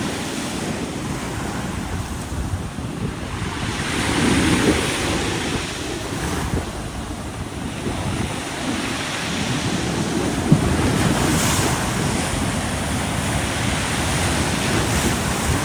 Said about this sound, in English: Look at those waves, holy moly.